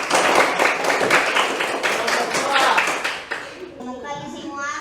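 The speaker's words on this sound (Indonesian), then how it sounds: "tepuk tangan dulu untuk" Classroom of students clapping their hands in a school lesson, a brisk, uneven burst of close clapping that stops abruptly, followed by a student starting to speak.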